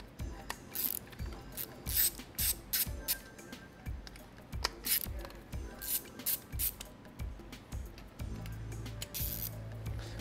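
Screws on the scope mount rings of a rifle being loosened with a tool, a run of repeated clicking, ratchet-like turns at a close, steady rhythm with brief pauses.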